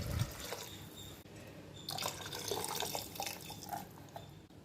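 Water poured into a pot for a one-pot tomato rice, a splashing, trickling flow that runs steadily for several seconds and swells midway, close and alone with no talk.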